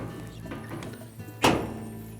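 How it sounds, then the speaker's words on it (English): A Whirlpool clothes dryer's front door swings open during a thermal fuse repair, giving one sharp thunk near the end, close and loud. "Now carefully open the door."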